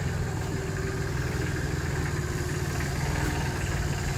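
A Solis 26 mini tractor engine idles at a tractor sales lot, a steady, close, throbbing diesel rumble with constant low vibration and no talk.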